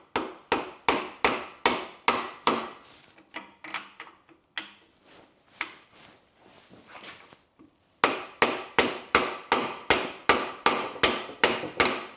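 Heavy hammer blows strike metal in sharp, evenly spaced bursts while work is done on a 1000 hp vehicle. Quicker, lighter taps come first, then a pause with softer knocks, then another run of loud, regular strikes.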